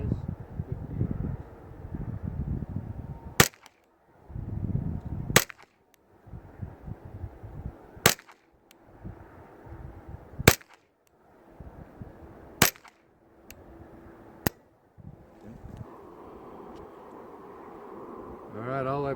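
Six sharp gunshots from a Ruger 10/22 rifle with no muzzle device, fired at 50 yards, crack out at intervals of a couple of seconds, each a loud isolated snap over gusty outdoor wind.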